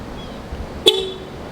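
One short, sharp horn beep from a car as its doors are locked, close and loud against quiet background noise.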